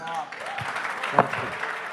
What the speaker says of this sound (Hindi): कभी हॉल के एक किनारे से ताली बजती है, कभी किसी दूसरे किनारे से